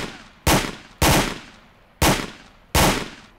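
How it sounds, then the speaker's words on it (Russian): Four loud, sharp gunshots ring out at uneven intervals in the game STALKER, each crack trailing off in a short decaying echo, fired close by into a corpse. "Это я в труп стреляю, видать."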